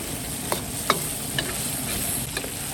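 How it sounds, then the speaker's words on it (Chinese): Pickled chillies, garlic and scallions sizzle steadily in a hot wok, with a few sharp scrapes and clinks of a spatula stirring at irregular intervals. "先把它炒香，再下入小米椒"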